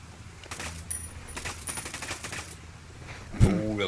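Rapid bursts of gunfire in the video game Ghost Recon Wildlands rattle in quick succession, followed by a louder thud and a low, warbling tone near the end.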